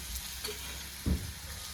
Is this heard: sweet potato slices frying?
yes